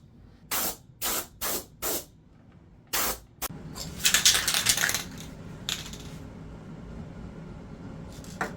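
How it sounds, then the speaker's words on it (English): Short bursts of compressed air hiss against wooden CNC-carved table legs to clear dust before finishing, four quick blasts then a longer spray-like rush, followed by softer hissing and background noise. "Before the finish, I blow all the dust from the legs."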